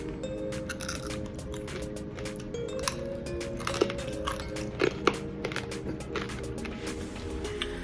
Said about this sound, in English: I tested out on grapes, listen for the crunch.